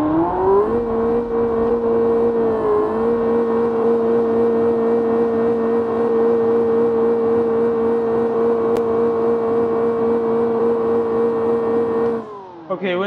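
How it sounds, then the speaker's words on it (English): A simulated high-horsepower, two-wheel-drive car engine in BeamNG drives into mud, holding a loud, steady, whining drone that barely changes in pitch for over ten seconds. It then drops off near the end. "Well, let's see how it goes in the mud anyways."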